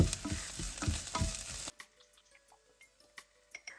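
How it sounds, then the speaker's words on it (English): Curry leaf sprigs saute in a pan with coriander and mint for a chicken biryani masala, a dense sizzle and crackle for the first half that drops away to sparse, faint ticks and pops. "Now add 3 sprigs of curry leaf and saute."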